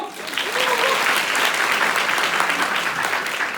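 Police academy trainees in a hall break into applause, a loud, even burst of many hands clapping that swells quickly and holds steady.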